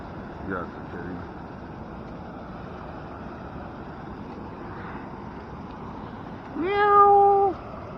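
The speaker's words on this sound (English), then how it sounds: "Yeah, it's a kitty." A small cat lets out a clear, drawn-out meow near the end, outdoors beside a river on a fishing outing, after faint earlier calls over low wind and water noise.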